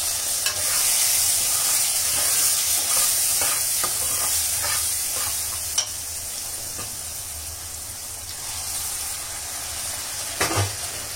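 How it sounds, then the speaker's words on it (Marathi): Water poured a little at a time into roasting semolina (rava) in a pan on low heat, giving a steady loud steaming hiss and sizzle with occasional stirring clicks, no voices. "असं थोडं थोडंच पाणी ओतायचं, नाही तर मग असं हातावर येते वाफ"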